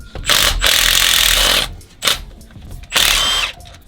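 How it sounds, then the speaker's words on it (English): On a 2019 Subaru Crosstrek, an impact gun rattles loudly in three close bursts, a long one, then a short one and a medium one, as it backs out a bolt during a skid plate install. "and then you can use your impact gun"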